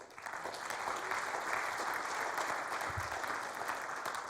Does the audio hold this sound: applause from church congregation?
yes